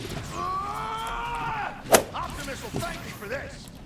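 Gunfire in the video game Transformers: Fall of Cybertron, with one sharp crack cutting through a busy bed of whirring, sweeping sci-fi effects and a few softer impacts.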